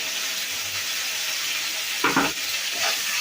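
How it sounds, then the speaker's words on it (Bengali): Mustard spice paste for hilsa fish fries in a pan with a steady, close sizzling hiss, broken near the end by a couple of brief stirring sounds. "মশলাটা আর একটু ভাজা হবে।"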